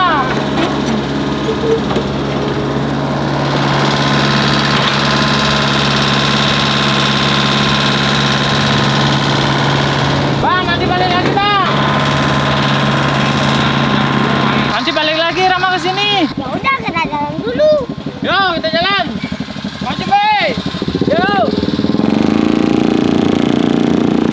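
Truck engines idle with a steady, droning rumble, parked while hauling yellow soil; the hum runs throughout, and people talk over it in the second half.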